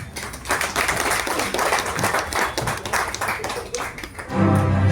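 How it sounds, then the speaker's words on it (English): Audience applauding to welcome a chief guest at a formal event, busy crowd clapping with some sharper individual claps, fading out before a voice resumes at the end. "Let us all welcome her with a big round of applause."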